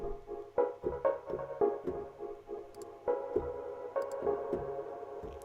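A granular sample loop with reverb, pulsing in a soft repeating rhythm of tonal hits that smear into a washed-out tail, steady and moderately loud with no voices.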